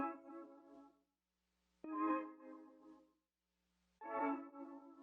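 A vintage-style music sample has its volume automated, giving three separate tonal phrases with swelling and fading loudness, separated by short silences.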